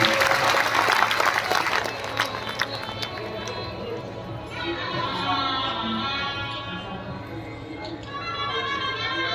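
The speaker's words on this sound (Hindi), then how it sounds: "एक बार जोरदार तालियां बजाकर स्वागत करें।" An audience breaks into loud clapping to welcome guests, a dense burst of applause that fades as a voice begins talking over it.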